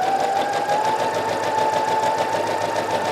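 A sewing machine runs steadily and close, stitching the sleeve cap of a puffed sleeve along the raw edge without backstitching, a continuous whirring hum with no pauses.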